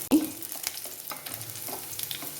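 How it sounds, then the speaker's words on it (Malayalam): Onion stirred and frying in a pan for a chempu taal thoran gives a sharp opening scrape, then a continuous close sizzle with soft stirring sounds. "ഉള്ളി ഒന്ന് ഇളക്കി കൊടുക്കാം"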